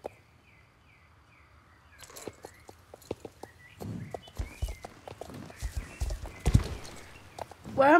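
A Belgian Warmblood horse's hooves clip-clop in a quick, uneven rhythm during a video game race, growing busier and louder, with a neigh and a brief voice heard over them.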